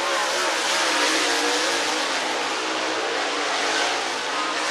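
A dirt modified race car roars around the I-75 Raceway track in Niota, Tennessee, its engine a loud, steady, broadband drone, with no voices over it.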